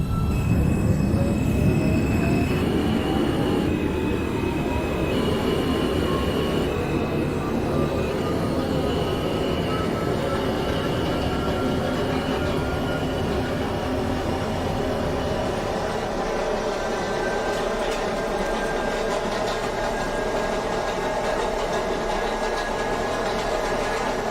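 An R160 subway train on the F line rumbles and accelerates in the OpenBVE train simulator game, rising electric motor whine and wheel screech over steady rolling noise, continuous and close throughout.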